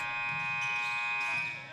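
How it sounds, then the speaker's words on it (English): A steady, loud electronic buzzer blares continuously at a college men's basketball game at the Cougar Cage, with faint crowd noise underneath, fading slightly at the end. "the buzzer randomly going off in the middle of the game"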